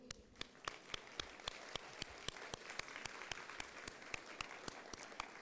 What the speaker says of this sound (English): Please give yourselves a round of applause, and I really want to hear it.